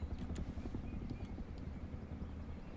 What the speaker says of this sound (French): Les gars, il y a un hélico.